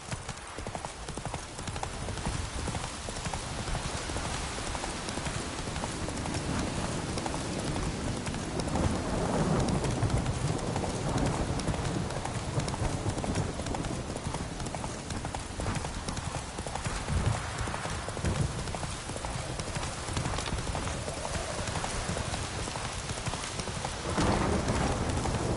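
Roach the horse gallops in The Witcher 3, a rapid, continuous clip-clop of hooves under heavy rain and distant thunder, loud and sustained throughout.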